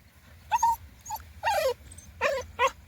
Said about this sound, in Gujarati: ડોગી છે